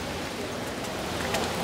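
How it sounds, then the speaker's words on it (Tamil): Heavy rain pours down steadily, making a dense, even hiss that fills the whole clip without pause. A faint voice may sit beneath it. "மழையா கிடக்கு பயங்கர."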